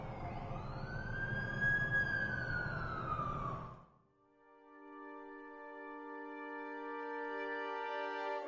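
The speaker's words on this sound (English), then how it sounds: "That's the ambulance I called." An ambulance siren in a video game wails loud and near at first, then cuts off abruptly; a steady tonal synth or second siren layer follows, quieter and sustained to the end.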